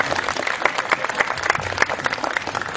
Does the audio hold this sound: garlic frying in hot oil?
no